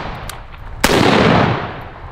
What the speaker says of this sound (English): Just a basic AK.